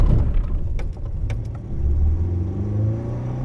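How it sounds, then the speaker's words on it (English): A Ford Ranger engine rumbles and revs near and loud, the low drone climbing steadily in pitch as the clutch is dumped in first gear, with no talk over it. "What happens if I dump the clutch on 1st gear with proper rev match?"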